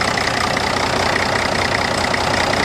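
Big-engined riding lawnmower idling in neutral, a steady, close, even rumble with no change in pitch or level throughout.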